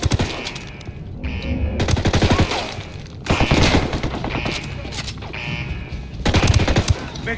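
Sustained automatic gunfire with bursts of rifle fire from a Ghost Recon Wildlands mission on Extreme mode, dense and loud throughout, with heavier volleys swelling near the middle and end.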